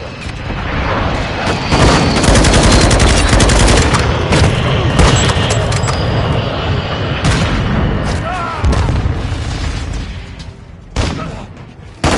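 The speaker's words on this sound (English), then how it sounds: "Semtex out! Throwing a stun grenade!" Semtex and stun grenade explosions in Call of Duty Modern Warfare II boom loudly amid dense rolling gunfire, with in-game voice callouts over the chaotic battle and a final sharp blast near the end.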